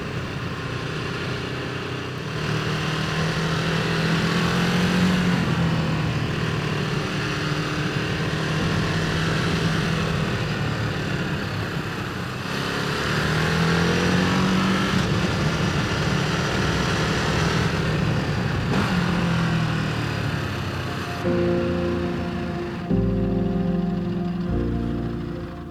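An adventure motorcycle climbs a rough mountain road on Gran Canaria's GC-210, its engine droning steadily and loud throughout, with rising and falling pitch as the rider shifts, before the tone changes near the end.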